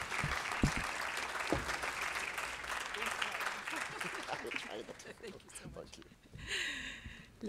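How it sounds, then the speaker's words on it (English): An audience at a Down Syndrome Family Network event applauds in a steady, dense patter for several seconds, tapering off before a voice begins. "Please welcome her with a round of applause, please."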